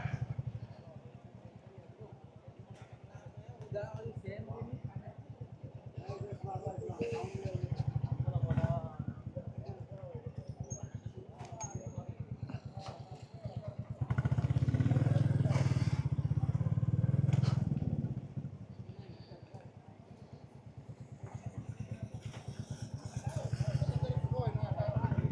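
A Royal Enfield Bullet 350 rumbles steadily as it threads through congested Singapore traffic beside construction trucks, its engine swelling louder twice as the rider pulls ahead, with faint voices in the background.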